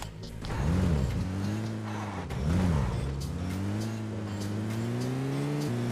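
A car engine in the PUBG Mobile video game hums steadily and revs up and down in two surges before settling into a sustained drone, loud and close with no talk over it.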